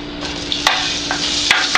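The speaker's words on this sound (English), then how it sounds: "And now we're going to add our sausage to it." Sausage sizzling in a pan of hot olive oil over slightly above medium heat, a steady broadband frying hiss with a couple of sharper crackles and pops, close and fairly loud, no talking.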